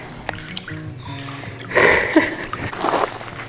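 Feet splash and slosh through cold, deepening canyon water on a desert thru-hike, with bursts of splashing in the latter half after quieter moments, close and fairly loud.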